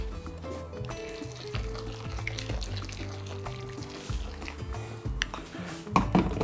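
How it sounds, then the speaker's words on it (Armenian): Freshly boiled water pours over 300 grams of green beans in a pot for beef and bean soup, a soft, steady splashing and trickling that plays quietly under background music. "Վրան ավելացնում ենք եռացրած ջուր։"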